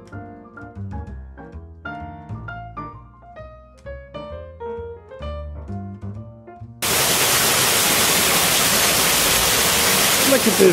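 Music plays first, then a waterfall in a rainforest setting cuts in abruptly as a loud, steady, broadband rushing roar that continues to the end.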